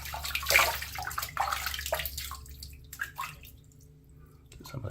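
Running water rinses shaving soap off skin, heard as a close splashing gush that fades into soft trickles and a few small splashes.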